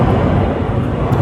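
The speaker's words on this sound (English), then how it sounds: "It's a train." A train passing close by outdoors, a loud, dense low rumble with steady roar filling the short moment.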